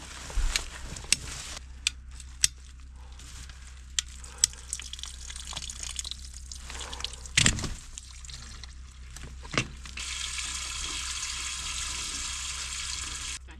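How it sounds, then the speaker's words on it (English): Water gushes from a freshly cut water line in a dug trench, a close, steady rushing flow that swells near the end, punctuated by scattered sharp knocks and splashes. "that's a lot of water"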